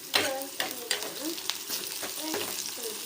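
Curry leaves dropped into hot oil with crushed garlic and chopped shallots for a sambar tempering, giving a bright, steady sizzle with a few sharp crackles and stirring clinks up close.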